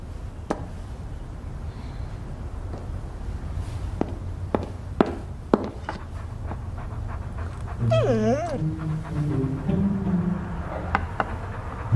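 A dog whimpers and whines in a short, high, wavering cry around the middle, amid scattered taps and footsteps in a quiet indoor room, with a few softer yips afterward.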